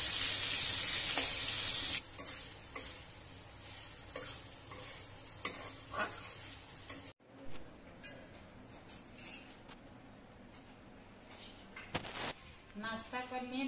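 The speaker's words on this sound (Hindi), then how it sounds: "पहले परवल को फ्राई कर ले रहे हैं" Pointed gourd slices frying in hot oil in a home kitchen pan, sizzling steadily while a spatula scrapes and stirs in irregular strokes, close up, with a loud hiss early that quietens partway through.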